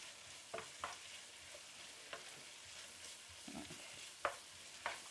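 Food sautéing in a pan before corned beef goes in, a faint low sizzle with sporadic utensil scrapes and taps spread through the stretch, quiet and without voices.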